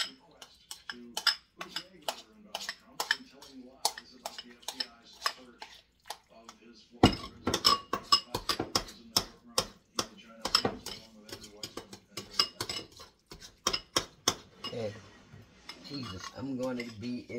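Eggs being chopped for homemade dog food, with repeated sharp knife taps and clinks of utensils against a dish in a close, busy kitchen rhythm, a longer pause partway through, and some talking mixed in.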